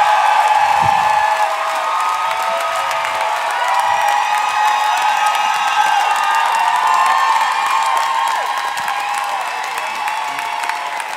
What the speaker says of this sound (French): J'aimerais qu'on applaudisse pour qui quitte nos invités, Christine Morancy et Roxane Bruno